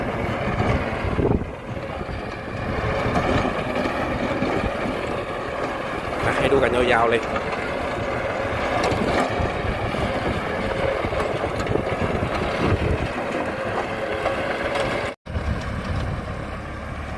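A LOVOL 90 hp tractor driving a rotary tiller through a field at about 1,400–1,500 rpm, a steady loud engine drone with mechanical rumble and wind buffeting, while someone talks throughout.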